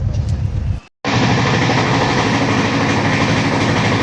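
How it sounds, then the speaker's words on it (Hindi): Express train 15235, the Howrah–Darbhanga weekly, runs at speed with a loud, steady rumble and a rhythmic clickety-clack of wheels heard from on board. Near the start a brief dropout cuts the sound, then the roar comes back full and unbroken. "क्या मस्त स्पीड में ट्रेन चल रही है"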